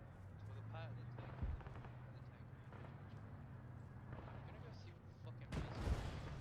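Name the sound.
incoming tracer rounds and gunfire in a tank video game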